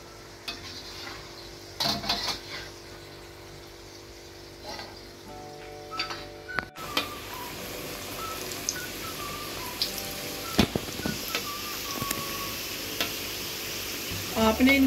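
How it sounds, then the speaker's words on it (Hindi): Namak pare frying in oil on low heat give a steady, moderate sizzle with a few sharp clicks and scrapes, gently picking up in density partway through. "आपने इनको हल्की आंच पर फ्राई करना है।"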